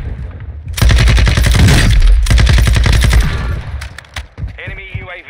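An SMG firing in a Call of Duty game on Ashika Island rattles out two loud rapid bursts back to back, followed by scattered single shots and game sounds as it tails off.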